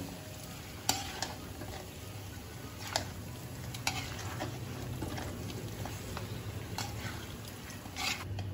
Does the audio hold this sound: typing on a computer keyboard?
no